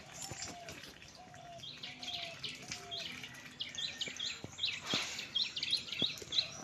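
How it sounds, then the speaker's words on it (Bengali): Birds chirping and calling around a home yard, with a dove-like coo and quick high tweets in the background, faint and distant amid light household sounds. "আমার ছেলে নাচছে, পাখি ডাকছে বলে।"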